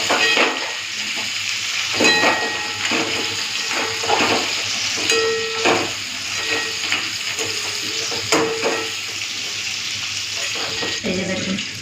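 Crab legs frying in hot oil crackle and sizzle steadily, with occasional scrapes and stirs of a utensil against the pan, close and continuous throughout.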